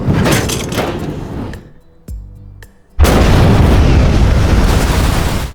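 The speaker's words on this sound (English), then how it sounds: "An explosion that happens in an instant" A warehouse explosion in a film bursts in with a sudden loud boom and a sustained roaring blast. It follows a noisy stretch, a brief lull and a few sharp knocks.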